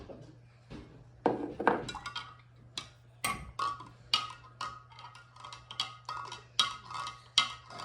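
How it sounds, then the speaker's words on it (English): Milk in a pot being stirred after rennet is added, a run of bright clinks and taps of a utensil against the pot, irregular and close, over a low steady hum. "And then stir it again."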